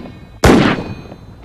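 A single sharp, loud gunshot blast with a short echoing tail from the Thunderbirds episode Operation Crash Dive, standing out against a faint background hum.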